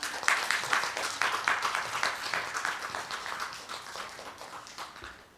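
A church congregation gives a missionary a welcoming round of applause. Many hands clap densely and steadily, then the clapping slowly fades toward the end.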